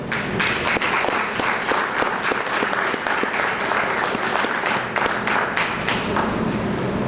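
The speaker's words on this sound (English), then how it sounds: "give the evaluation team and our legal consultants and our technical consultants over at NREL a round of applause" Audience applause at a solar agreement signing event in the Virgin Islands, a sustained, dense crowd clapping that stays loud and even for several seconds.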